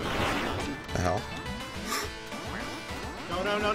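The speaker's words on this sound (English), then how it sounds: "when you quack, does the lot go up?" Cartoonish duck quacks in the video game Duck Game pop out in short bursts, mixed under excited, overlapping voices of players talking throughout.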